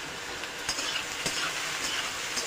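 Gourd pieces with salt and turmeric fry in a pan with a steady, close hiss and sizzle, while a utensil stirs and scrapes at intervals throughout. No one speaks.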